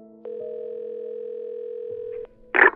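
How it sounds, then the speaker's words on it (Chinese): A telephone tone sounds while a call is being placed, one steady unbroken tone lasting about two seconds in otherwise quiet surroundings, followed by a short burst of noise. "于是我马上就打了电话过去"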